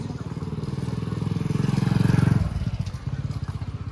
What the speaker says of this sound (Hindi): बाइक भी आ रही है तो।